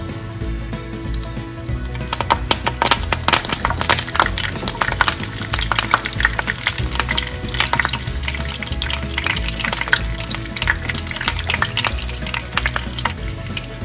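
Cumin seeds and curry leaves crackle and spit in hot oil for an asparagus pulao, a loud, dense, close sizzle with sharp popping bursts that starts abruptly and continues steadily.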